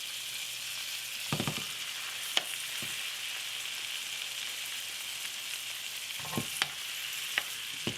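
Seasoned pork chops sizzle steadily in a hot pan, a constant close crackling hiss, with a few soft clinks and thuds as the chops are set down and moved. No one speaks.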